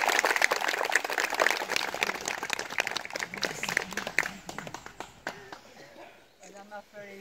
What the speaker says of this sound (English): Big round of applause for the real Philomena.